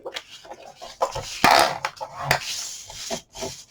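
Scored cardstock for a Graphic 45 ABC Primer mini album is folded and burnished by hand, giving close scraping and rubbing strokes in short bursts with a few sharper scuffs.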